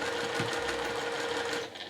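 Sewing machine stitching a drawstring bag, a short burst of fast, even mechanical whirring close up that slows and stops near the end.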